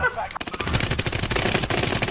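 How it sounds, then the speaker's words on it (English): Several guns fire at once in the Warzone video game, a dense, rapid stream of loud automatic bursts overlapping for about two seconds, with a voice briefly audible. "four guns all just destroying this dude"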